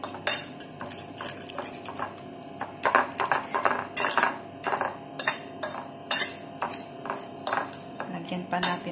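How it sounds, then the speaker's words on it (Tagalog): A utensil beats eggs in a bowl for an omelette, a quick irregular clinking and tapping against the sides that runs throughout, close and clear with no talk. "Okay guys, i-mix lang."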